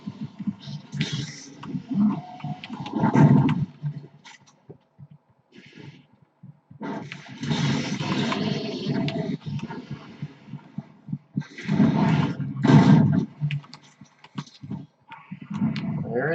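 The Pinky demon in the game Doom SnapMap gives repeated deep, rumbling growls and snarls in several bursts separated by short pauses, close and moderately loud.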